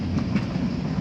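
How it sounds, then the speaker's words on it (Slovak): A train passes nearby, seen from a walk home from school, with a continuous low rumble and rolling clatter that stays steady for the moment. "Akurát ide vlak."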